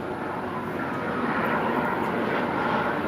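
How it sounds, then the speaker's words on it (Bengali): A helicopter flies overhead, its engine and rotor giving a loud, steady roar that fills the whole stretch without fading. "হেলিকপ্টার"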